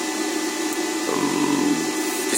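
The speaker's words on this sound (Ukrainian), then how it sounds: "У нас включився, мабуть, холодильник на кілька секунд запускається вентилятор, тому трохи шумно." A household refrigerator starting up with its fan running, giving a steady, fairly loud whirring hum with a low droning undertone that holds constant throughout.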